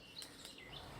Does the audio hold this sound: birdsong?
yes